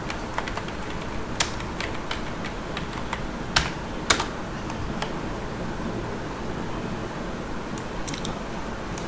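Computer keyboard typing entered into a design app's search box, irregular bursts of close keystrokes with a few louder taps over steady room noise, no voices.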